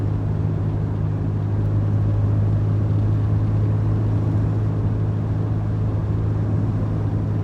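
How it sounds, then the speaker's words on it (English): A white 2004 Nissan Xterra 4x4 cruising down the road at about 55 miles per hour, heard from inside as a steady, even low drone of engine and tyre rumble with no talking. "all the way up to about 55 miles per hour, no problem, tracking nice and straight down the road here"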